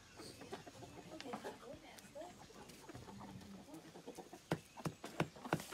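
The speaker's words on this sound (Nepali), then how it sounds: "यो कुखुराहरू" Free-roaming chickens cluck and murmur at a moderate distance, with scattered sharper squawks and a few louder pecking knocks toward the end, over a soft outdoor background with faint voices.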